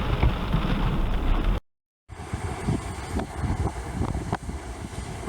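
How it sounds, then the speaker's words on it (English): Ocean waves after a storm, heard as a steady broadband wash of surf with wind noise buffeting the microphone, broken by a brief gap of silence before the churning roar resumes. "That's just the waves after the storm."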